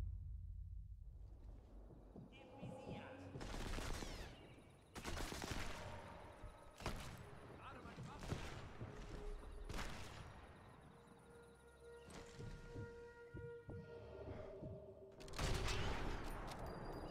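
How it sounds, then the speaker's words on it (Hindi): Repeated bursts of loud gunfire boom in short clusters in the video game Sniper Elite 4, at the Regilino Viaduct level, over a steady rumbling background, with heavy, echoing blasts spaced irregularly throughout. "यहाँ से कौन गोली चला रहा है?"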